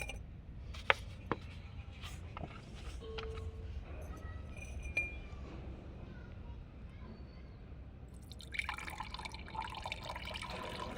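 Homemade neem-based bio-enzyme pesticide is strained through a strainer, giving faint liquid drips and light clinks of a container close by, with someone speaking over much of it.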